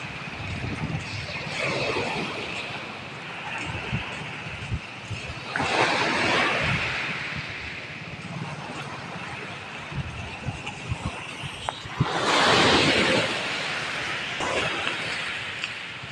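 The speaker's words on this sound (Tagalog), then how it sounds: "Lakas ng alon." Strong ocean waves at Tongo Beach Resort break and wash ashore in loud, rushing surges, three big swells rising out of a steady roar of surf and wind.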